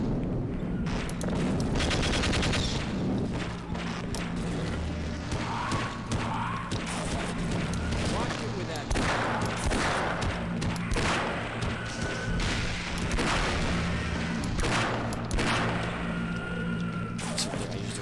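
Dense, continuous game gunfire and explosions in Half-Life as a revolver is fired at alien controllers, loud and relentless with crashes and booms layered throughout, no talk.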